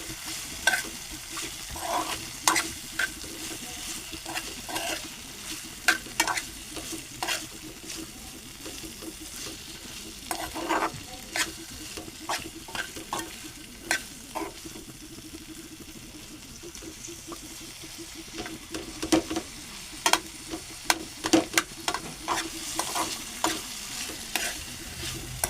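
Bitter gourd frying in a pan at home, with steady oil sizzle under repeated scraping stirs of a spoon against the pan; no one talks.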